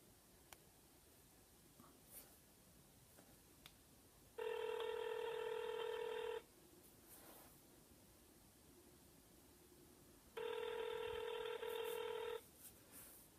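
Two long bursts of steady dual-tone iPhone keypad sound, each about two seconds, separated by a quiet gap over faint background hiss.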